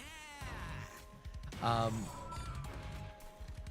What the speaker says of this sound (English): That is the cat.